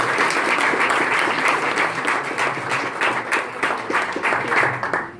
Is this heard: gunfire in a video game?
no